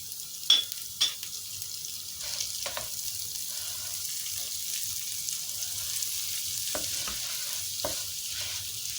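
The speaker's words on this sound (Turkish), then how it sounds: "Tereyağımızda da bir 2-3 dakika kavuralım" Rice toasting in butter in a pan, a faint continuous sizzle with a few sharp scrapes of a spoon near the start and occasional stirring later, close with no voices.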